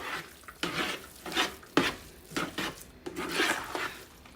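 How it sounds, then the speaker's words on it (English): Cheese being stirred into a broccoli rice casserole, a spoon scraping and clacking against the dish in irregular strokes, moderately close and quiet, with no talking. "Go ahead and mix your cheese in first"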